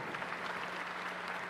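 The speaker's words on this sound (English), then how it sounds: "a round of applause for all our speakers today." Audience applause at a high school graduation ceremony, a dense, even wash of clapping from a large crowd, steady and moderately distant throughout.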